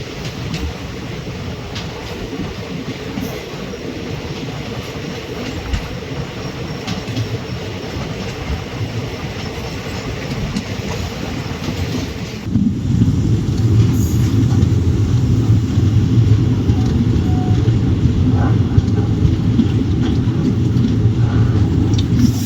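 The 22651 Chennai to Palakkad Superfast Express runs on its rails with a steady rumbling roar and rhythmic clatter, heard from on board, growing louder and heavier midway through.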